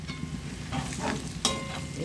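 Onion frying in hot oil as cinnamon, cardamom and cloves go in for a prawn biryani, a steady close sizzle with brief stirring scrapes and a sharper clink near the end.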